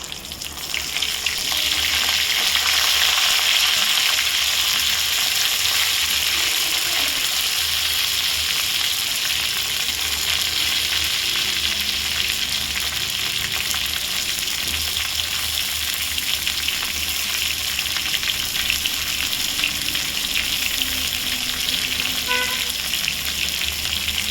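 Eggplant pieces fry in hot oil with cumin and mustard seeds, giving a loud, steady, dense sizzle that hisses without pause the whole time, with faint stirring scrapes and no talking.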